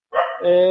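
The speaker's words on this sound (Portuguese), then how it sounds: "tem um cachorro latindo aqui" A nearby dog gives a loud, tonal bark that stretches into a drawn-out yelp, heard alone and close.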